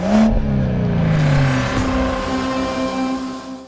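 Honda Civic Type R engine revving hard, then sustained tonal engine drone with rising and falling harmonics as the car accelerates, loud and close, with no talking.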